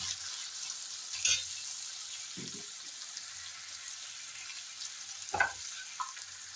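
Onions and tomatoes, salted and sprinkled with a little sugar, frying in a pan for a jackfruit curry. A soft, steady sizzle runs throughout, with a few brief clinks and scrapes of stirring standing out.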